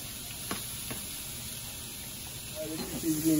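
Fish grilling with a soft, even sizzle and hiss, a couple of faint clicks near the start and a few short tonal squeaks toward the end as it gets louder.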